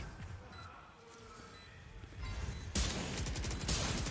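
Gunfire in Valorant during a pro esports match, quiet shots at first, then a dense burst of rapid shots in the last second and a half, under a caster's commentary.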